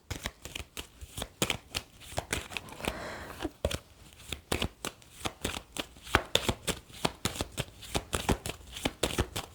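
Tarot cards shuffled by hand in a steady run of crisp riffling bursts, close and fairly loud, with a longer rustling sweep partway through and no talking.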